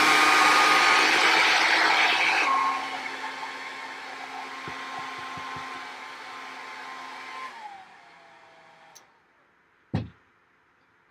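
Hair dryer blowing at a sketchbook to dry wet paint, a loud steady whoosh that drops to a lower setting partway through, then switches off and winds down to near silence, followed by a couple of faint knocks.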